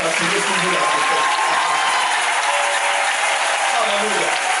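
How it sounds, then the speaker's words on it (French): A church congregation at a Wednesday worship service applauds and cheers loudly, a dense, continuous wash of clapping filling the room with voices mixed in. "Est-ce qu'on peut acclamer Jésus pour ça?"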